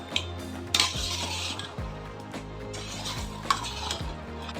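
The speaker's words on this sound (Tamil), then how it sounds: "மட்டனை சேர்த்து நல்லா கிளறி விடுங்க." A spoon scrapes and clinks as mutton is stirred in a pot for biryani, repeated strokes with metallic knocks over a low background sizzle.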